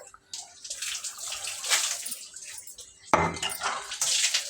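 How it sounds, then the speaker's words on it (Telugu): Water poured from a cup into a pot of rice, three cups for a tomato rice dish, heard as a close splashing, gurgling stream in short bursts with a clink of the pot between pours. "త్రీ కప్స్ వాటర్ పోస్తున్నాను"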